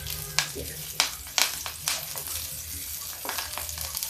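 Stuffed brinjal fries in hot oil, crackling and spluttering close up with sharp pops over a steady sizzle.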